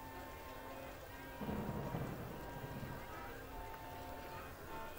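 Rain falls steadily on the surfaces of a video game theme park, with a soft continuous patter and a brief swell of heavier rain, heard faintly in the background.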